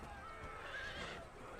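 A horse whinnies faintly in a battle in the video game Empire: Total War, a brief rising neigh over a dense, low din of the fighting.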